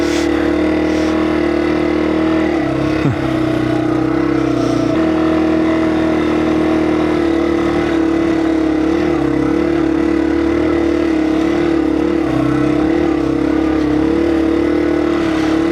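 A Yamaha TW200 motorcycle ridden over ice and sand, its engine holding a steady, close, droning hum throughout with small shifts in pitch and no talking.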